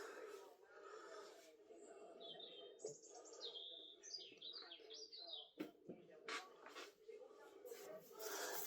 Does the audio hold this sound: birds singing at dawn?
yes